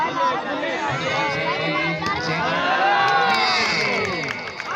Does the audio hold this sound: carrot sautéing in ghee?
no